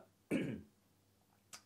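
A man gives one harsh, close cough, followed a moment later by a brief faint throat-clearing sound, in a quiet room.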